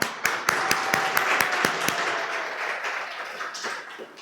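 A church congregation claps to encourage a team during Sunday worship, a few sharp distinct claps at first thickening into soft scattered applause that gradually fades.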